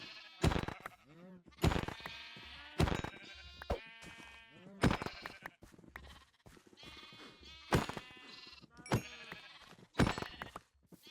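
Sheep in a hardcore Minecraft survival game bleat repeatedly, in about a dozen loud, close, wavering calls spaced through the stretch and overlapping one another, with sharp percussive sounds between them and no talk.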